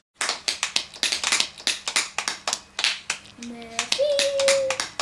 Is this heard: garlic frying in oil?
no